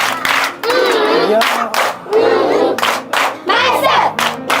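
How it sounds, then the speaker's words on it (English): An audience claps in rhythmic bursts for a guest, loud and close, with a crowd's shouted voices and cheers over the clapping. "Now give him a love clap"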